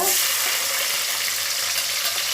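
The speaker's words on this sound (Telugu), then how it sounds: "ఇప్పుడు ఉల్లిపాయ ముక్కలు వేస్తానండి ఇందులో" Onion pieces frying in hot oil for an egg and brinjal masala curry, a dense, loud, continuous hiss heard close up with no talk.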